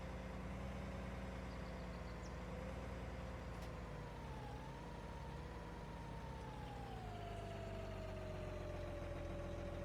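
A tractor engine drones steadily while driving in Farming Simulator 19 on a West Texas dairy farm. The pitch rises and falls slightly as the engine works, and there is no talk over it.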